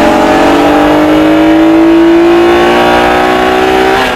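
A Honda NSX first-generation sports car engine revs hard and steadily, its pitch climbing smoothly as the RPM rises, loud and close throughout.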